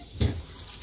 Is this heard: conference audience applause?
no